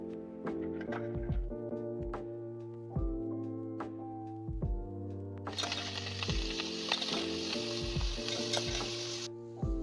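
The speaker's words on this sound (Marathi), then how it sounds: "त्यात आता शेंगदाणे टाकू।" Raw peanuts are tipped into a hot kadhai on a wood-fired stove for roasting into a crisp salted snack. A loud, rattling, sizzling rush starts about halfway through and runs steadily for several seconds over background music.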